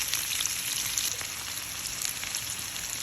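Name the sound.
sautéing garlic and onion in a pan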